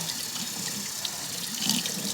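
Tap water streams steadily into a pot of hard soaked beans, a constant close splashing rush of rinsing water with slight sloshing variations.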